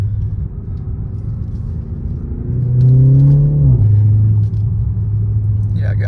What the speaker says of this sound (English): I absolutely love this AWE track exhaust